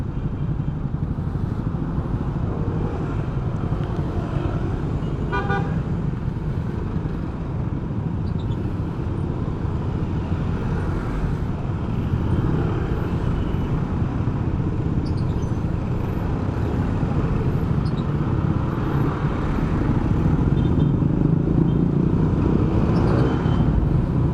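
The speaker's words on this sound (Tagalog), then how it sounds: "So dito lang tayo medyo na traffic mga idol." Steady road traffic in a congested street in the Philippines, with engines of cars, motorcycles and buses rumbling continuously at close range and a brief horn-like tone early on; no talk is evident.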